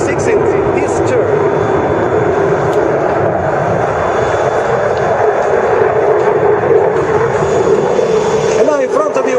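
An Italian Air Force Eurofighter Typhoon jet roars through a tightening turn at an air show, a loud sustained engine rumble filling the whole clip while a commentator talks over it.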